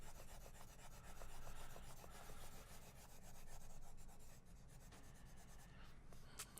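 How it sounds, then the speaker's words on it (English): An eraser rubs quickly back and forth on drawing paper, a faint, close, rhythmic rasping scrub in repeated strokes with short pauses, no voices. "So, erase this guy real quick."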